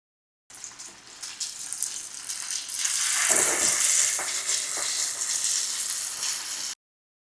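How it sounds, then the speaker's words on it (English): Akara bean fritters frying in a pan of hot oil, a steady broad crackling sizzle that swells louder partway through as more batter goes in, close and continuous with no talking. "So my oil is hot already, so I'll just fry my akara."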